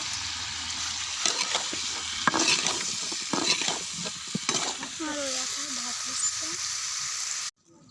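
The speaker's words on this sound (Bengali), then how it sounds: "তার জন্য তেল আগে দিচ্ছি, কুমড়ো দিয়ে দিলাম, লবণ দিয়েছিলাম, হলুদ দিলাম" Pumpkin with salt, turmeric and ground chili-cumin spice paste sizzling in hot oil, close and continuous, with stirring scrapes and clatter of a utensil in the pan.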